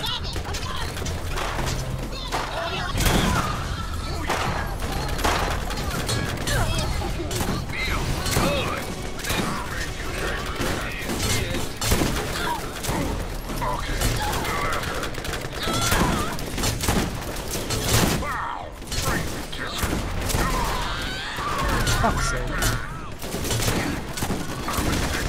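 Enemy gunfire in the Borderlands video game crackles and clatters in rapid, dense bursts, with mechanical clanks and impacts layered throughout a long, busy stretch of combat.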